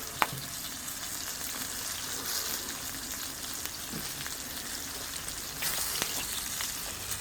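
Two flour-dusted fish fry in a pan with a soft, steady crackling sizzle and a few sharp pops and clicks, fairly quiet and heard alone.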